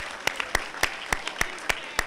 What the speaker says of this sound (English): Another round of applause, please, for AP Tucker.